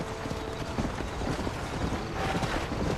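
Horse hooves clip-clop steadily on a trail in the Western video game Red Dead Redemption, a continuous mid-level rhythm under ambient game sound.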